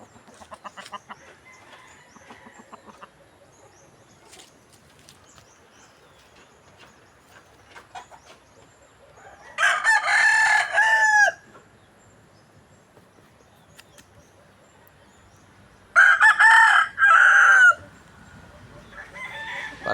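Gamecock roosters crow twice, each a loud, drawn-out call several seconds apart, with faint, scattered clucking in the quiet between them.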